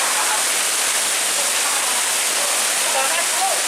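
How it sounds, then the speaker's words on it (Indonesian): Hailstorm in Yogyakarta: a steady, loud, dense hiss of hail and rain pelting surfaces, continuous and unbroken throughout, with no distinct voices standing out. "Iya, hujan es."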